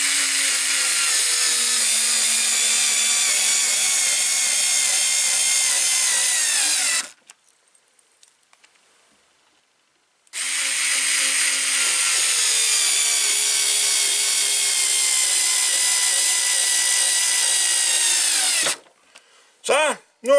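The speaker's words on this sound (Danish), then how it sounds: "Så, nu har vi skruet 60 skruer i med den her" A SKIL 2710 cordless screwdriver drives screws into wood in two long, loud whirring runs, its motor whine dropping slightly in pitch under load, with a clean pause between them and a brief final blip.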